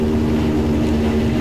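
Loud, steady engine drone from a Benetton Ford F1 car with a Ford V8 in the racing game Stock Car Extreme, holding one low pitch with no revving.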